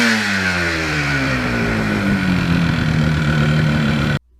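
A 1977 Yamaha RD400 motorcycle at wide open throttle through the gears gives a loud, continuous, raspy two-stroke engine roar with a shifting pitch, cutting off abruptly at the end.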